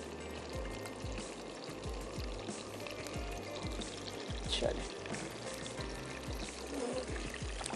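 Tomato puree pours into a pan of hot oil with garlic-ginger paste, chilli and spices for matar paneer masala, giving a steady wet sizzling and pouring wash at low level, with soft knocks throughout.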